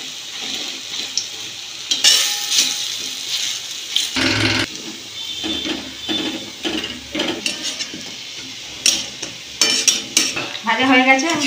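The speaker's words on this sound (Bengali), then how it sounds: "এবারে আমি দিয়ে একটা একটা করে পকোড়া ভেজে নেব।" Small coriander-leaf pakoras deep-frying in oil, a bubbling sizzle broken by frequent clinks and scrapes of a utensil against the pan, fairly close and uneven.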